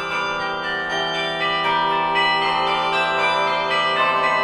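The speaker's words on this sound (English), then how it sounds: "there are ways to play major chords on bells" Several minor-tuned bells ring together in a major chord, their tones overlapping into a sustained, resonant chord that stays loud and full throughout.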